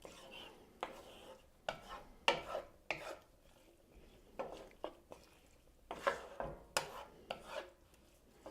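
A spoon stirring a sofrito mixture in a pot, giving a series of uneven scraping and rubbing strokes, fairly close and moderately loud, with short pauses between them and no talking.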